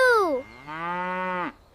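A cartoon cow sound effect gives two loud, close moos: a short falling call, then a longer, steadier low moo that drops off at the end.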